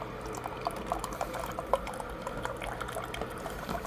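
Water pouring into a cup of collagen chia coffee mix, a steady close trickle and splash running for several seconds with a few small bright clinks, no talking.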